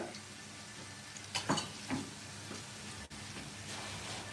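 Onions sautéing in a pan until golden, a soft, faint sizzle with a few brief stirring scrapes and clatters near the middle, no talk.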